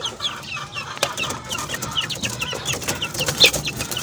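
Soft, repeated clucking and peeping from four month-old chicks, one with a runny nose, with light rustling and flutters throughout, fairly close.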